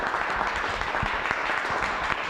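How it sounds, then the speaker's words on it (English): Audience at a team game show claps in a brisk, steady round of applause, with a few sharper nearby claps standing out. "Give yourselves a round of applause."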